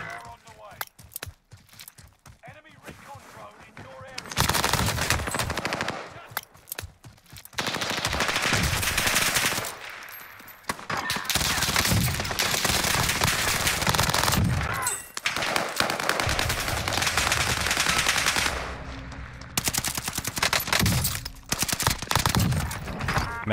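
Mac-10 submachine gun fire in a shooter game rips out in long, rapid bursts, loud and close, broken by brief pauses across the whole stretch, with a voice talking over parts of it.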